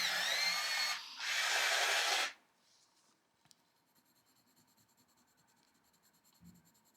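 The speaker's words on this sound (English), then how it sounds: "so I'm just going to sharpen this blue" A blue coloured pencil is sharpened in two loud grinding bursts, like a small electric sharpener, lasting about two seconds, followed by quiet with a faint tap.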